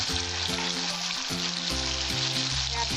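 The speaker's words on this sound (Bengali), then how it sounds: "তেলটা গরম আছে, আমি কালো জিরে ছেড়ে দিচ্ছি।" Black cumin (kalo jeere) seeds hit hot oil in a pan, giving an even, continuous crackling sizzle throughout, close to the mic, with soft tonal background music running underneath.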